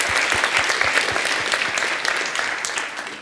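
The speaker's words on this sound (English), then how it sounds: "So first, a big applause." Sustained audience applause at an open house presentation, dense and steady clapping from a crowd that fades slightly toward the end, with no talk over it.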